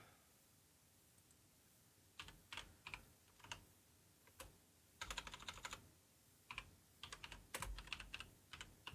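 Someone types on a computer keyboard in short bursts of quick, close clicks separated by pauses, with denser flurries toward the end over a quiet room background.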